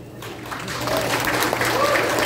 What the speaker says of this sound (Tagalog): giving each other a resounding applause